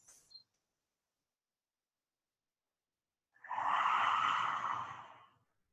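A single long, breathy ujjayi (ocean breath) exhale through a slightly constricted throat with a soft throaty rasp, close and steady, rising then fading over a couple of seconds after a brief quiet pause.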